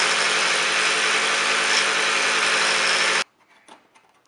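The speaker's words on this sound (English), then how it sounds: "I'm gonna grind off a little bit more." A grinder removes metal from a homemade 12-to-1 FMU disc with a loud, steady, continuous whine that cuts off abruptly after about three seconds, leaving faint handling noises.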